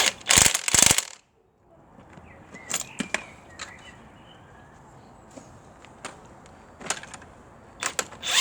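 Spring compressor clamps being tightened on the front shock absorber spring of a 2013 Ford Ka / Fiat 500, giving a few loud ratcheting clicks at the start, then scattered sharp mechanical ticks and clicks over a quiet background.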